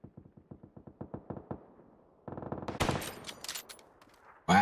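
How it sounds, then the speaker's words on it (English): Pistol shots in the battle royale game PUBG, a steady string of about a dozen sharp, evenly spaced cracks, then a denser, louder spell of mixed gunfire and impacts, ending on a heavy burst. "Napley's shooting people with his pistol."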